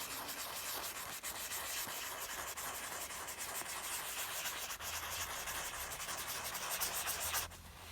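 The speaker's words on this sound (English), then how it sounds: "I'm going to get that really fine sandpaper." Fine sandpaper on a pad rubbing over a small turned wood pen blank, a steady continuous scratchy hiss with small rotating rhythm, close and fairly quiet, with no talking.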